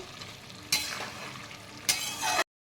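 A taro and hilsa fish head curry with vegetables bubbles and sizzles softly in a pan. Two louder bursts of stirring or spattering break in before the sound cuts off abruptly.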